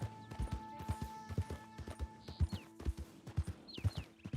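A horse's hooves clip-clop in Red Dead Redemption 2, a steady, evenly paced run of hollow hoof strikes on hard ground, with faint bird calls and a low hum beneath.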